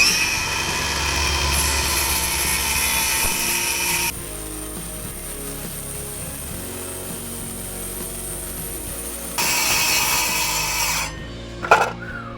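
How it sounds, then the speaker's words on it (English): A power saw cuts through a plywood table aboard a sailboat, a loud sustained buzzing whine that shifts in pitch as the blade bites and eases, then winds down with a final clatter. "so I decided to take the saw to this gorgeous piece of plywood"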